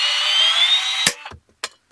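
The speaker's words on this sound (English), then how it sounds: "Cut me off 11-inch piece of pipe. Use the old Milwaukee." An old Milwaukee power tool whines steadily while cutting through old drain pipe for a bathtub drain replacement, then stops abruptly, followed by a few sharp knocks and clatters.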